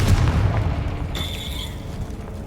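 A Confringo fire-blast spell explodes in Hogwarts Legacy, a loud booming burst at the start that rumbles and decays over a couple of seconds, with a faint high whine afterward.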